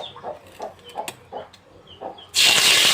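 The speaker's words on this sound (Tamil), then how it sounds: "கடுகு போட்டுடலாம் கடுகு நல்லா பொடியட்டும்" Mustard seeds dropped into hot oil pop in scattered sharp crackles, then burst into a loud continuous sizzling splutter close up.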